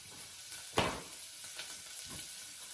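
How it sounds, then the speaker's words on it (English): Onions for chili beans fry in a pan, a soft, quiet sizzle broken by a couple of brief scraping stirs, one sharper stir near the start and a fainter one later, with no talking. "Stir it up a little. You know, caramelize these onions"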